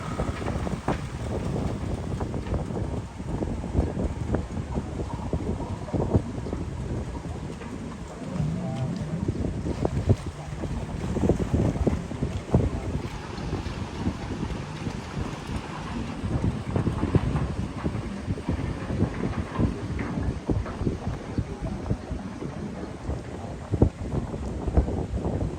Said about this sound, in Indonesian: Kapal lagi masuk.